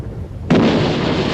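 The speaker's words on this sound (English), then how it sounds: "The coastal defences open fire," Coastal defence guns open fire in a single sudden, loud blast that cuts in midway and rolls on in a sustained rumbling boom, heard up close with no voices.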